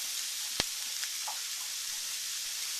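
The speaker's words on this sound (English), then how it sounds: "we're going to add 1 medium sweet onion. Hear that sizzle, hear that going on there" A sweet onion sizzles in a hot pan, a faint, steady hiss throughout, broken by one sharp tap near the start.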